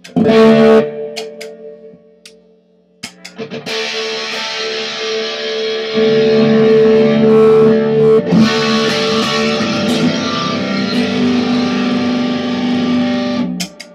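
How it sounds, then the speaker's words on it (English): A distorted electric guitar, a Les Paul Special with P90 pickups through a Vox AC50 amp, plays chords and sustained notes, gritty and saturated, with brief pauses between phrases and a long ringing finish. "Here's what we're getting with distortion."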